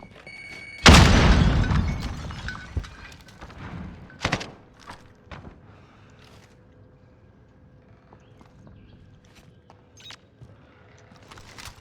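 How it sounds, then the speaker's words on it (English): In Modern Warfare multiplayer, a grenade blast erupts with a sudden loud boom that fades into a rumbling tail, followed by a sharper secondary crack and scattered faint game sounds. "Grenade out!"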